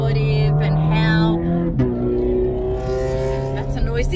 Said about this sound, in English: That's a noisy car.